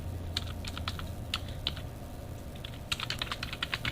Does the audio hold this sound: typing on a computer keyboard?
yes